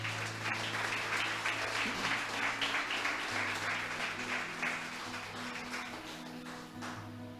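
A church congregation applauds together, a dense, even wash of many hands clapping that carries on for several seconds before slowly tapering off, with a low hum underneath.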